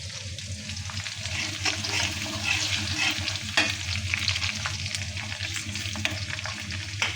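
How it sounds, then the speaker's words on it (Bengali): Spice tempering sizzling in hot oil for a cauliflower, potato and lentil dish, a close, continuous crackling fry with light stirring and scraping throughout. "ফোড়ন দিয়ে দিলাম।"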